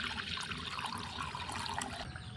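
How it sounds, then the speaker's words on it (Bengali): Water pours into a bowl in a soft, continuous splashing trickle, fairly quiet and close, with no voices. "একটা বোলের মধ্যে আমি জল নিয়ে নিচ্ছি"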